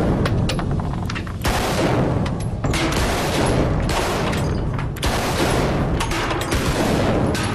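Assault rifle fire crackles loudly in rapid, overlapping bursts, a dense fusillade of shots with only brief gaps between volleys.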